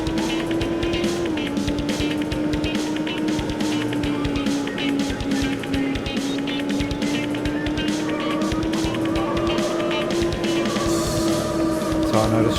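Racing video game car engine on a Windows 98 Pentium 3 PC with an Audigy ZS sound card drones steadily, a sustained tone that shifts in pitch as the car accelerates, loud and continuous throughout.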